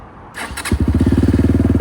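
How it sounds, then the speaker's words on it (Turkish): A motorcycle engine cranks briefly, then catches and settles into a steady, rapid, loud idle thumping, heard up close with no talking. "Şimdi motoru çalıştır."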